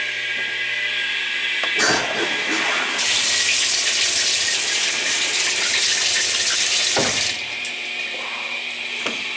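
Water rushes from a faucet after the supply is turned back on at a winterized summer home, a loud, steady gush that surges stronger partway through, then drops back to a lighter flow.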